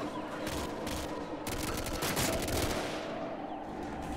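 Call of Duty: Modern Warfare 2 battle fire, with dense bursts of rapid automatic gunfire and overlapping shots rattling continuously over a noisy combat background, loud and sustained.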